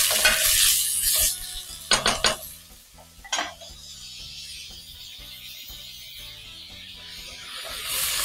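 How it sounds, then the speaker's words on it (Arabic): Sauce and tomatoes go into a pan for a chicken and vegetable marqouq stew, with clattering stirring, utensil scrapes against the pan and a steady frying sizzle underneath, a few sharper clinks in the middle. "دلوقتي هحط الصلصة والطماطم"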